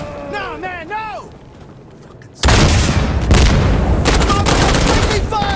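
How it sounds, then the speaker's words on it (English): Teammate gunfire in Insurgency: Sandstorm erupts after shouted voices, a dense loud burst of rapid shots and booms carrying on for several seconds. "Friendly fire! Friendly fire!"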